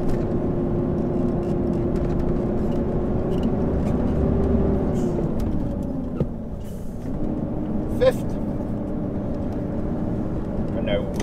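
Heavy truck with a 13-speed manual splitter gearbox, its diesel engine droning steadily, pitch dipping around a gear change before settling again, with a brief air-brake hiss; someone talks over it.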